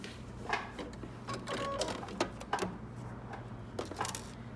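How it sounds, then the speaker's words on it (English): Domestic sewing machine stitching around a pocket on shorts or pants, a soft rapid whirring hum running in short bursts with brief pauses and faint clicks, close and quiet. "and now I'm going to sew around the pocket"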